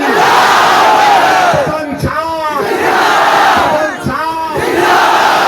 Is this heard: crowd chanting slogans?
yes